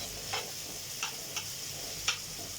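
Onions frying in a pan give a steady soft sizzle, broken by a few sharp clicks and taps of stirring.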